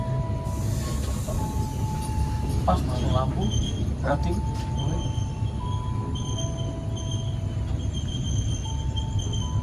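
The Kahuripan passenger train rumbles past close by in Indonesia with a steady low roar, occasional squeals and tonal hums, while voices speak over it.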